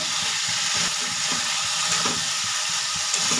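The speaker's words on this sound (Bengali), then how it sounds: "রেড চিলি পাউডার আমি ভালো করে কষে নেব" Red chilli powder, turmeric, coriander powder and salt fry in oil in a pan for a rohu fish curry with potato and cauliflower, giving a steady close sizzle with faint stirring scrapes throughout.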